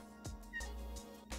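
A hungry cat meows at dinner time, giving a few short, faint meows spaced about half a second apart against quiet indoor background.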